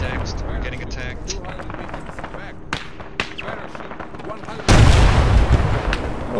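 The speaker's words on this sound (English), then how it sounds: "He just blew up right in front of me." A sudden loud explosive blast erupts mid-battle in Arma 3, following scattered gunfire and sharp cracks, with the roaring burst sustained for nearly two seconds as voices talk in the background.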